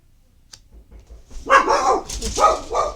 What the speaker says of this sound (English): Somebody knocked on my door. My dog went kind of crazy.